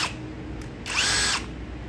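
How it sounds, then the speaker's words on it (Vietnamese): A cordless drill drives a screw into thin corrugated metal roofing sheet, giving one loud whirring burst of about half a second with the bit grinding into the sheet, set between quieter stretches of room noise. "Bây giờ tôi thử bắt khoan xem là bắn vít được cái tôn này không nhá."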